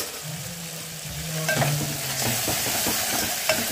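Tomatoes and ground masala sizzle and fry in a pan at home while a spoon stirs through them. Steady crackling sits under a few scraping stir strokes and a brief low hum, with no voices.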